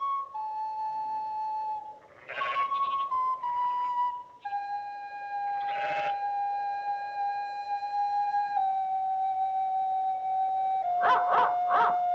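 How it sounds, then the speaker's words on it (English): Dogs howl in long, steady wavering tones with a few short barking bursts breaking in, sounding fairly close and continuous throughout with no talk. "Oh, I always hoped there would be dogs."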